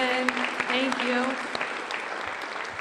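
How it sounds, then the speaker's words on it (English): Applause at an academic meeting for a committee, dense clapping mixed with cheering and a sung or sustained voice early on, easing slightly toward the end. "Can we give them a round of applause?"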